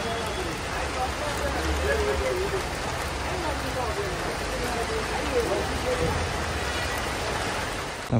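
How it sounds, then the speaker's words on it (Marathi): Sudden rain pours down at a bus depot in a steady, dense hiss of drops on surfaces throughout, with faint voices mixed in. "अचानक पाऊस सुरू झाला"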